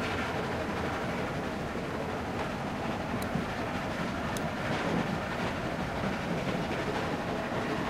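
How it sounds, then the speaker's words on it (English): A train rolls along in The Walking Dead video game, giving a continuous rumbling, rattling clatter that holds steady with faint metallic squeaks. "Stop the train."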